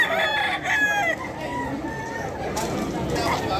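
A sweater gamefowl rooster crows loudly and close by at a pet market, with several drawn-out calls in the first half and other fowl clucking and crowing around it under the busy market noise.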